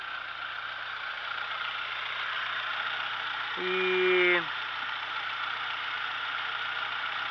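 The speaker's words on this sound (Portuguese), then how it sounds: "O carro tá dando uma trepidadinha no motor" A 1974 Dodge engine idles with a slight shudder, a steady mid-pitched hum joined midway by a brief rising whine. The sound is close and even, and one short voice sound is heard.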